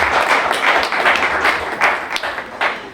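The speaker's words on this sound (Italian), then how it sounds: "Un applauso a Silvia!" Audience applause at a literary festival evening, close and fairly loud, with quick, uneven clapping that swells and dips over a few seconds.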